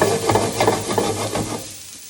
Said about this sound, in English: Okay, so now I have about half a chicken breast going in.